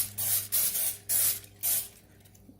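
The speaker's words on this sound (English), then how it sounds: "we are going to just line this with a little bit of cooking spray" Cooking spray is sprayed into a bread pan in four short, crisp hissing bursts at a steady rhythm, followed by quiet.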